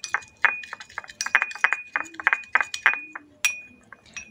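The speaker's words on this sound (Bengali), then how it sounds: "এবারে আমি এটাকে ভালো করে মিশাচ্ছি" Coffee powder, aloe vera gel and honey being stirred together into a face scrub, a spoon clinking and scraping against a glass bowl in quick, irregular taps, close and fairly loud with no talking.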